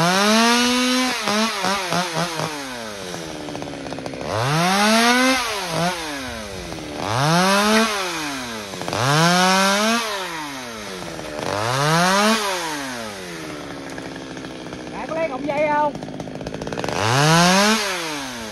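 A chainsaw cuts a gừa bush in an abandoned garden, its engine revving up and down in repeated rising and falling surges of about two seconds each, loud and close, with no talking.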